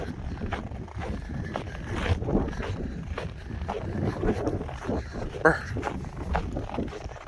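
Strong wind buffets the microphone in a steady, rumbling roar with gusty surges throughout, loud and close.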